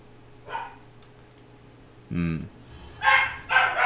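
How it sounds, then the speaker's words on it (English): A dog named Winston barks indoors in a few short, separate yaps spread across a few seconds, moderately close, with faint clicking between them. "Winston's barking anyway"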